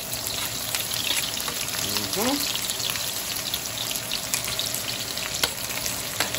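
Onions sizzle and fry in a pan right after garlic, a steady bright hiss with occasional stirring scrapes and a brief rising squeak near the middle, under faint background noise.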